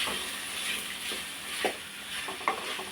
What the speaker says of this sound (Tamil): இந்த மாங்காய் நல்லா வதங்கட்டும்